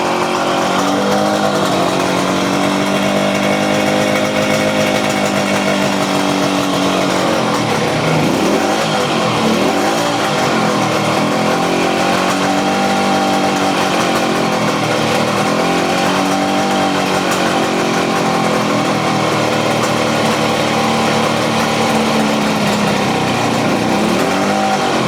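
A Kawasaki KH250 two-stroke motorcycle engine runs steadily at close range with the throttle held open, its loud buzzing drone dipping briefly and recovering as it warms up, with no talk over it.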